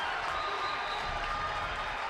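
A basketball crowd in a school gym applauds and cheers after a blocked shot, a steady wash of clapping that fills the space at moderate volume.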